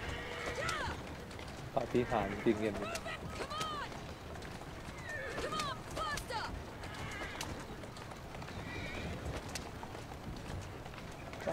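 Horses in Assassin's Creed Syndicate whinny and neigh several times, with rapid hoof clip-clop of galloping mixed in, close and fairly loud over a busy street-noise bed while someone talks throughout.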